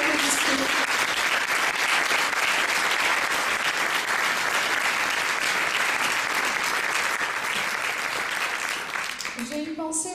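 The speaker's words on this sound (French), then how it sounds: "je voudrais que vous vous applaudissiez" An evening audience at a French municipal campaign event presenting a list of running mates breaks into loud, sustained applause lasting around nine seconds, dense clapping close by, before a voice resumes speaking at the end.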